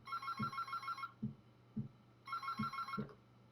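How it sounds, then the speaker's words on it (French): A telephone bell rings in two clear bursts of rapid trilling, separated by a short pause, fairly quiet and with no voices. "Coup de téléphone."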